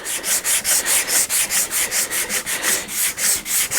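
Rhythmic back-and-forth scraping of sandpaper on wood, about four strokes per second, close and steady with no voices.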